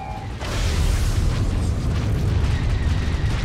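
A missile blast in the Star Wars: The Old Republic space combat game erupts as a loud, sustained rumbling boom that swells in quickly and holds heavy and dense to the end.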